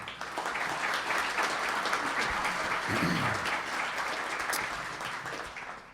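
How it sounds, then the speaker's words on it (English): A roomful of attendees at a Bellingham State of the City and County morning event claps for the sponsors, a broad, steady wash of applause that swells and then slowly thins toward the end, with a faint voice briefly in the mix. "One more round of applause for our sponsors for this morning."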